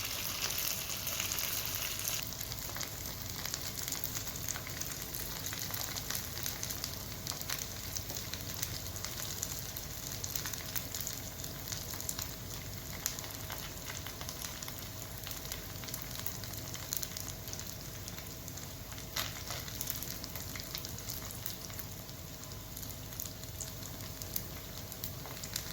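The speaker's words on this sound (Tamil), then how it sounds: "ஃப்ரை பண்ணும்போது எப்போவுமே ஃப்ளேம் வந்து ஹையில் வச்சு பண்ணுங்கள்." Idli pieces deep-frying golden brown in hot oil over a high flame give a soft, continuous, even sizzle and bubbling hiss that runs unbroken from start to end, with no voices.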